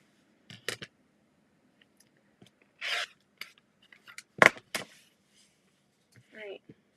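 Scissors trim the points of a sewn quilt star block in a few short, close snipping bursts separated by quiet pauses, with faint rustles of fabric in between.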